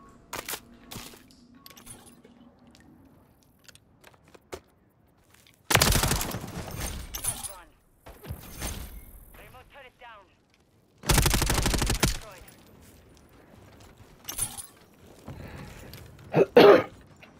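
Gunfire in an online first-person shooter match, several loud, sharp bursts of shots in separate clusters, with brief quiet gaps and a player's voice speaking between them.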